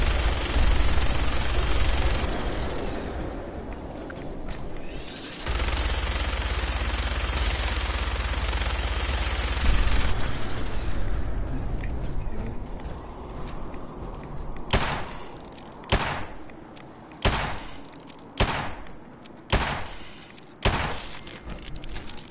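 Hand cannon gunfire in Fallout 4: after sustained loud rumbling combat noise, a series of about six sharp, heavy shots rings out at a steady pace, each loud and close.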